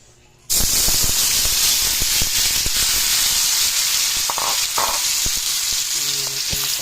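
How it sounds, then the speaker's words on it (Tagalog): Tofu hits hot oil in a pan with a sudden loud sizzle that keeps crackling and hissing steadily, with small pops and a few clinks of a utensil. "Tokwa guys, prituhin ko muna to."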